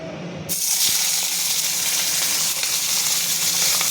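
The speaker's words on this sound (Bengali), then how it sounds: "এবারে ইলিশ মাছগুলোকে একটু সাঁতলে নেব" Hilsa fish pieces drop into hot mustard oil in a wok and burst into a loud, sudden sizzle that holds steady and close.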